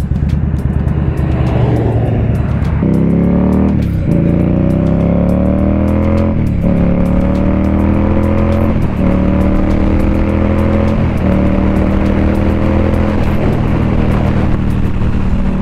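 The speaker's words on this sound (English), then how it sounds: "Look at this old hot rod coming." An old hot rod car drives past in traffic, its engine loud and near, revving up through repeated gear changes with a rising then dropping pitch, each shift marked by a brief break before the next climb.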